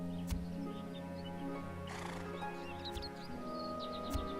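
A horse whinnies loudly in the video game ArcheAge, with clip-clopping hooves and faint game ambience underneath throughout.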